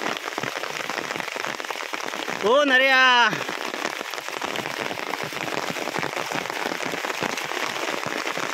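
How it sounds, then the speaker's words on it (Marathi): Heavy rain pours down steadily in a Kokan village, a loud continuous hiss throughout, as one voice briefly calls out a name partway through. "बघा कसा पाऊस पडतोय"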